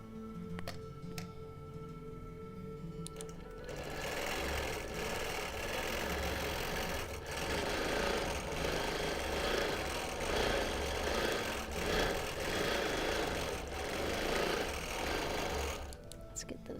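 A longarm quilting machine stitches a six-sided Christmas tree skirt, a quiet, rapid mechanical run of stitches starting after a few seconds of near silence and continuing steadily before stopping at the end.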